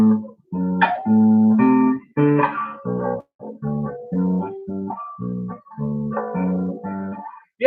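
Notes of a ii-V-I chord progression played in first inversion sound as separate, sustained tones in a steady, moderately paced sequence. The notes are close and clear, with brief gaps between them and no talk over them.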